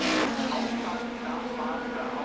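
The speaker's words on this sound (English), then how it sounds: "In the 7th round of the German Saloon Car Championship, Stuck drives to victory" Audi V8 saloon race car in the German Saloon Car Championship, a loud revving engine roar that peaks at the start and then holds a steady high drone as the car races, with commentary running over it.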